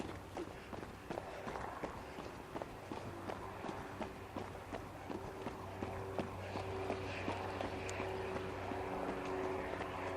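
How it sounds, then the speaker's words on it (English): A light aircraft drones steadily overhead through a continuous outdoor background during a run near Bazan Bay, its propeller hum sustained and moderately distant, mixed with footsteps and ambient noise. "And another light aircraft."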